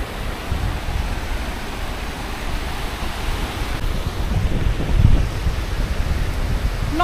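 Strong wind roars at a seashore while rough waves surge, a steady loud broadband wash with gusty swells and no pauses.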